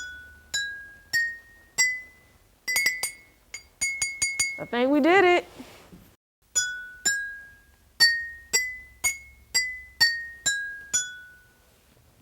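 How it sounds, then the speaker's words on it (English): Water-filled drinking glasses are tapped one after another, each strike giving a clear ringing tone that decays, the pitch changing with the water level. The strikes fall in steady runs before and after a stretch where a person talks. "the more water you have, the deeper the sound. The highest sound is going to be the empty glass."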